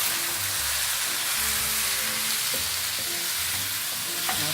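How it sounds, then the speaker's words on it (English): Spoon stirring a marinade in a bowl, a continuous wet swishing and sizzling texture with soft clinks, close and steady, no talking. "Let's give that a stir."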